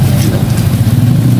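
Motorcycles and cars pass steadily on a busy street crowded with people, a loud continuous engine rumble filling the moment.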